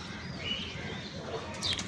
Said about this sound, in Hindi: दोस्तों मैंने कबूतर उड़ा दिए हैं हमेशा की तरह